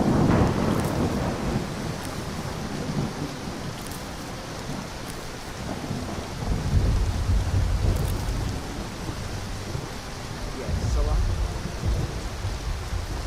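A thunderstorm in the video game Skyrim, with steady heavy rain hissing throughout and low thunder rumbles rolling in several times, loud and enveloping with no talk.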